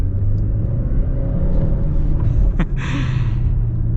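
A 2024 Dodge Hornet R/T accelerating with its PowerShot boost engaged: a loud, steady engine rumble and road roar that holds throughout, with a brief whooshing swell near the end and no talking.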